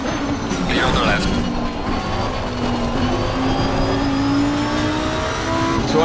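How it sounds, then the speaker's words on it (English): Race car engine wailing at high revs in Assetto Corsa Competizione career mode, a loud continuous drone rising steadily in pitch through the gears, with a driver's voice briefly underneath. "I just can't hear myself talk with the noise from the car"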